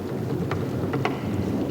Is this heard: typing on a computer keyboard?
no